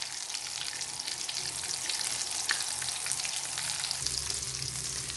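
Chicken shami kababs fry in a pan of hot oil, a steady close sizzle with crackling pops and a few soft clinks of a utensil near the end.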